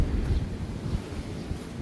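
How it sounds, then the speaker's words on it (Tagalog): Low, rolling wash of ocean waves at a beach in Cabangan, Zambales, mixed with gusty wind buffeting the microphone, steady and fairly close. "Medyo malakas pa rin yung alon eh."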